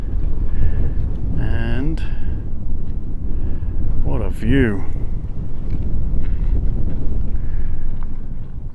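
Strong wind buffets the microphone at a high mountain viewpoint near McCloud, a loud continuous roaring rush throughout, with a person speaking briefly over it.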